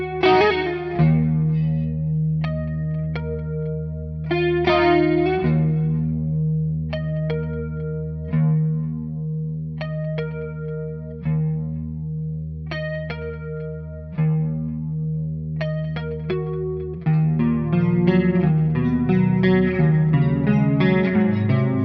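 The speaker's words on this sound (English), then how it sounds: "Turn on some chorus and see how that sounds." A clean electric guitar through a Splawn Quickrod amp plays sustained chords and single notes through a shimmering chorus effect, rich and wavering, ending in a busier strummed passage.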